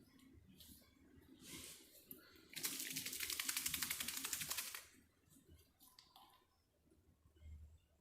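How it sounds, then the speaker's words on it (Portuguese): Water is poured in a pharmaceutical lab setting, a steady splashing stream lasting about two seconds in the middle, preceded and followed by quieter clinks and handling noises. "Bota mais um pouco de água."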